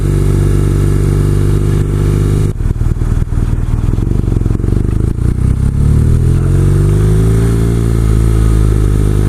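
A loud BMW R nineT Cafe Racer boxer twin-cylinder engine idling with a lumpy, throbbing rhythm, then blipped and revved, pitch rising and falling close by.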